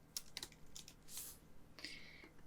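Quiet, quick clicks of fingers typing on a computer keyboard, with irregular bursts of keystrokes and short pauses, close up over faint room hum.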